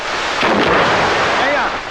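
A firecracker bursts close by with a loud, booming crack, and the noisy rumble that follows fills the short stretch with no talking.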